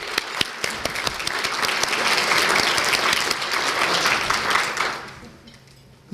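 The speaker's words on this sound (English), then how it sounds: "Let's give a round of applause for our 5-year employees." Audience at an employee service awards ceremony applauding, a dense sustained clapping that rises with a few sharp close claps, holds for several seconds, then tapers off quickly.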